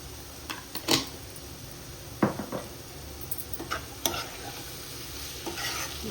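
Cabbage and chana dal curry with garam masala frying in a pan, a quiet continuous sizzle broken by scattered scrapes and taps of a stirring spoon, with no talking.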